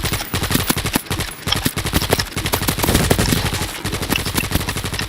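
Rapid automatic gunfire from a gun in a first-person shooter video game, continuous loud close bursts of sharp shots in fast rhythm with brief pauses, lasting several seconds.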